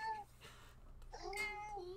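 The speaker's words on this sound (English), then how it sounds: "There's a cat on the other side." A cat meows in a mystery adventure game, two fairly quiet, tonal mews a second apart, the second one longer and wavering, with a low hum underneath.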